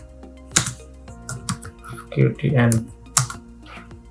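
Computer keyboard typing in a few short bursts of clicks, close by, mixed with someone talking over them.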